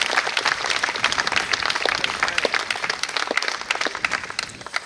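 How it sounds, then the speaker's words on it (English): An audience claps for the Aye Masqueraders, a quelbe group, with lively, crisp individual hand claps forming a close, busy round of applause. "another round of applause for the Aye Masqueraders."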